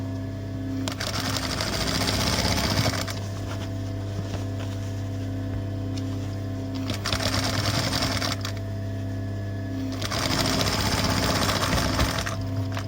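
A sewing machine stitches fabric for a face mask, running in three fast whirring bursts of about two to three seconds each, separated by pauses where a steady mechanical hum continues, loud and close with no voices.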